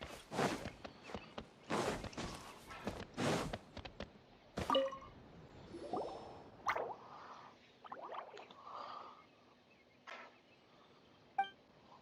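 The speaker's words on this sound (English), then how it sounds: "it sounds like a water droplet is on the second floor" Water droplets drip and plop in Genshin Impact's Secret Summer Paradise, a few sharp splashy hits early followed by sparse, quieter drips and faint gurgles.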